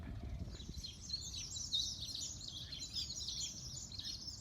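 New Holland Honeyeaters perched on overhead wires give a steady chatter of high, thin chirps and twitters, fairly near and continuous, over a low rumble of outdoor background noise.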